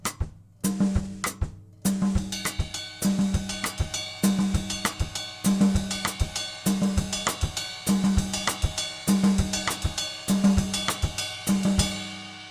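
A drum kit plays a syncopated pattern on the ride cymbal and its bell, with a steady run of bright, ringing strokes and accents repeating evenly and up close, with no voices over it.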